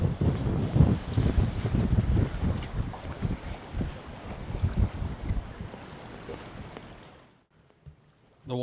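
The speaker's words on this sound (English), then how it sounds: "these steady 15-mile-per-hour winds blowing across the bay" Steady wind of about 15 miles per hour blowing across a bay at night, buffeting the microphone as a roaring rumble with water sounds, before dropping away almost to silence near the end.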